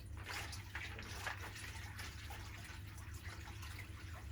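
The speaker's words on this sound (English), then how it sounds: "wash those roots off" Water sloshes and splashes in a bucket as orchid roots are dunked and washed, close and fairly quiet, with gentle drips and trickles over a low steady hum and no speech.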